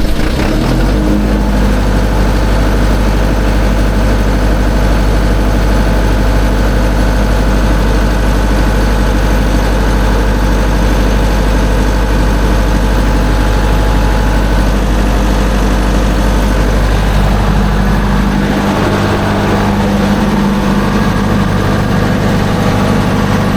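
An 80 kVA containerized generator engine running at idle, a loud, steady, heavy diesel drone with deep rumble and vibration throughout, shifting slightly in tone near the end, no voices.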